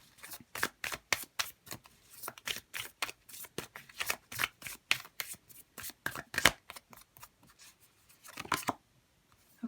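Oracle and tarot cards are handled and shuffled close up, a quick run of crisp riffling flicks and slaps in uneven clusters, fairly soft, with a brief pause near the end.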